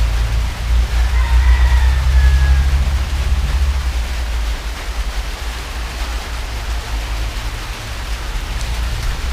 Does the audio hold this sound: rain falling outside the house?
yes